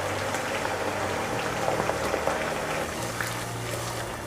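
Chicken pieces fry lightly in hot oil for a Bihari-style chicken curry, giving a steady close sizzle and bubbling crackle throughout, with no voices.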